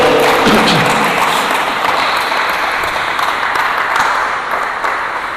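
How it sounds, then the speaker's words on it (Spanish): A large church congregation applauds steadily, a dense wash of clapping that fades slightly toward the end. "¿por qué no le das un fuerte aplauso al Señor por su palabra?"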